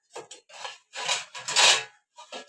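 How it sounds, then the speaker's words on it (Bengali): A cooking pot lid is lifted off, making several short metallic scrapes and rubbing clinks in quick bursts, close by, with silence between them. "ঢাকাটা খুলে দিলাম।"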